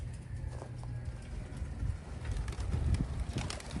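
Pigeons coo low and steadily outdoors at a cattle and goat market in the United States, with soft rustles and light clopping in the background.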